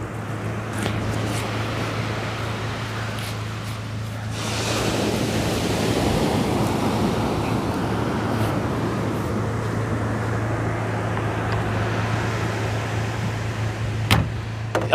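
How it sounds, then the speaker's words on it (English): Ocean surf at a beach at night, a steady broad wash of waves and sea spray that swells louder midway and rolls on continuously, with no talk over it. "We've just got that spray off the ocean coming in."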